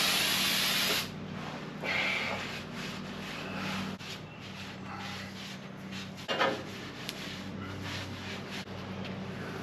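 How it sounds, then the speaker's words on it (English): Brake cleaner sprays in a loud hiss from an aerosol can onto greasy front-end parts of a 1978 K5 truck, followed by rubbing and scrubbing with a rag and a few clunks. "I'm using the brake clean for the areas where I had the heaviest grease"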